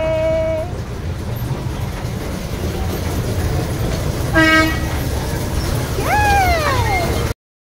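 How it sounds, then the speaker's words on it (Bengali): A toy train at Nicco Park amusement park sounds its horn three times, a short toot at the start, another midway and a falling, bending toot near the end, over steady rumbling ride noise, then abrupt silence. "আমরা এখন টয় ট্রেনে বসে পড়েছি। তোমার কেমন লাগছে মামা? ভালো লাগছে? চলো, স্টার্ট হয়ে গেছে।"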